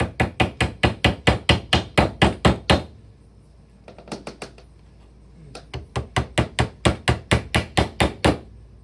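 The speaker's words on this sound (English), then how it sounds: "And I just hammer on the various hex nuts onto the opposite end." Rapid, evenly spaced hammer blows drive hex nuts onto the ends of spines during assembly, loud and close, with a brief pause and a few lighter taps before the steady pounding resumes.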